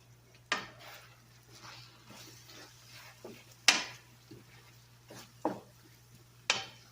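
A spoon stirs chili powder and cayenne into ground meat in a pan, giving a few short scrapes and clinks spaced a second or two apart over a quiet kitchen background.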